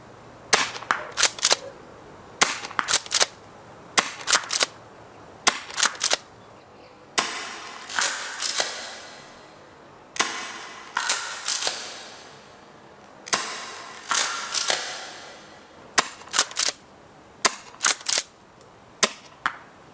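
Tokyo Marui M870 airsoft shotgun firing 0.25 g BBs, three per shot: a long series of sharp, loud pops, some in quick clusters and others spaced apart with brief cycling clatter between shots, no talking.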